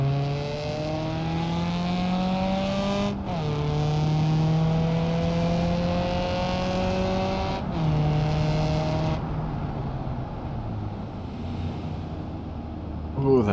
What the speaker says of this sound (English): I love how this car sounds, especially since the latest update when they changed it.